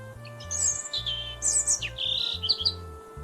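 A robin, a small red-breasted songbird, gives a run of bright high chirps and short warbled phrases over a steady low hum, close and fairly clear with no talking.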